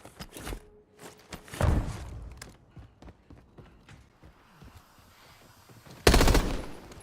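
Bursts of video game gunfire crack out in rapid volleys, a dense burst early and another loud salvo near the end, with clicks and mechanical rattles of weapon handling scattered between.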